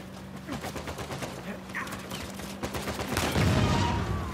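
Gunfire in the video game Uncharted 4 during a headshot, a dense string of shots swelling louder toward the end, mixed with some talk.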